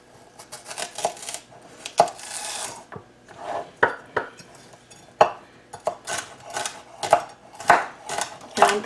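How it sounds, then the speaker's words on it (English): A knife chopping celery stalk on a cutting board for a Waldorf salad, a run of sharp close taps and scraping strokes in uneven bursts, with no talking. "And I'm cutting them fairly small."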